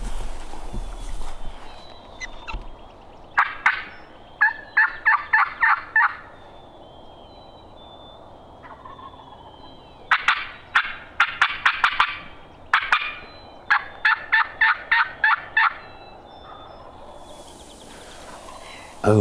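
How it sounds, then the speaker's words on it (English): Wild turkeys gobbling on high ground of Minnesota public land, a series of loud rattling gobble bursts in quick clusters, some nearer and some farther, with faint footsteps and little talk. "Oh, another one gobbling."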